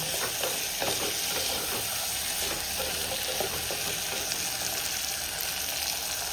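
Onions and tomatoes sautéing in a pan as the base of a country catfish curry, a dense steady sizzle with soft stirring scrapes close by, no voices.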